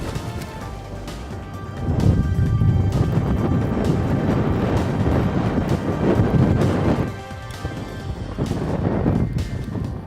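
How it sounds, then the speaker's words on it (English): Strong gusty wind on Lake Mead during a bass fishing tournament, loud rumbling buffeting that swells and eases across the clip, with mixed noise of water and boats, no speech. "The wind arrived with a vengeance, and it is impacting some of our anglers."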